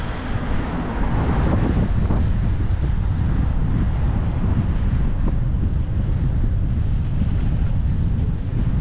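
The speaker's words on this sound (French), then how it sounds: "Et voilà, ça souffle le vent." Strong sandstorm wind in Algeria roars steadily, buffeting the microphone with a loud, continuous rumble that never lets up.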